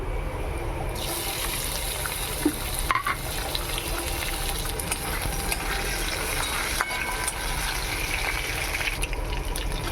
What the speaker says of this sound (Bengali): চিকেনটা আমি কষে রেখে দিয়েছিলাম তো এবার দিয়ে দিচ্ছি চিকেন